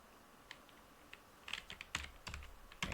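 Typing on a computer keyboard: sparse single clicks at first, then quicker bursts of keystrokes, close and fairly quiet against a faint background hiss.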